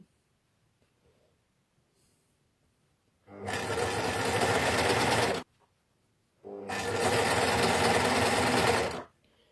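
A Baby Lock Ovation machine, set up for a three-needle cover stitch with a narrow foot, sewing elastic onto small underpants in two loud, close bursts of rapid whirring stitching, each about two seconds, separated by a quiet pause.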